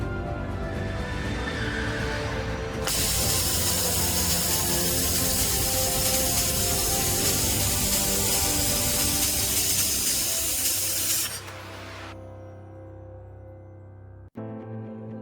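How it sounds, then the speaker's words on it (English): A laser welding machine working 5 mm stainless steel gives a loud, steady broadband hiss with a constant hum beneath, lasting several seconds before cutting off to a quieter drone. "Five mm stainless steel welding."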